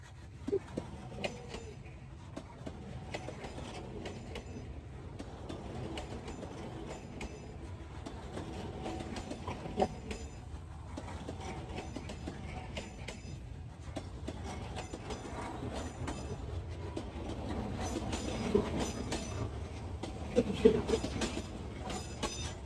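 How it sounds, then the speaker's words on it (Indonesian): An electric commuter train pulls out of Delanggu station bound for Yogyakarta and passes close by, a continuous loud rumble with rail clatter and wheel noise that swells toward the end, with no talk. "Di belakang saya ada kereta listrik yang melintas dari stasiun Jelanggu arah ke stasiun Yogyakarta"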